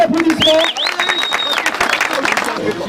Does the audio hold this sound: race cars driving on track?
no